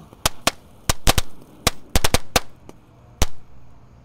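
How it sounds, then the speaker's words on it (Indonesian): A series of sharp, loud bangs from a tank-type firecracker going off in an irregular burst, some in quick doubles, with a final pop after a short pause. "untuk pemanasannya kita nyalakan mercon tank guys."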